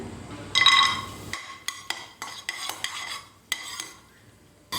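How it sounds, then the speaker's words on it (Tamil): Chopped cashews go into ghee in a kadai, with a soft sizzle under a series of sharp spoon scrapes and clinks against the metal pan, close and fairly loud. "இப்போ இந்த முந்திரியை நான் நெய்ல ஆட் பண்ணிடுறேன்"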